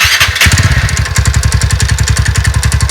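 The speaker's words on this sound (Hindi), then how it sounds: "ये एंटॉक रेस एडिशन है, देख सकते हैं। और इसका एक बार साउंड आप लोग सुन लीजिए।" A TVS Ntorq Race Edition scooter engine runs close and loud, its steady rapid pulsing carrying a fast rhythmic ticking, apparently the known tik-tik fault, after a brief start at the beginning.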